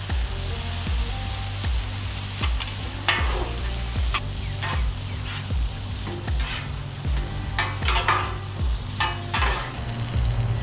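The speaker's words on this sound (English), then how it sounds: "And some bacon, warm that up." Bacon warming on a griddle beside game burgers gives a steady close sizzle with a low hum underneath and repeated scraping strokes of a spatula, no voices.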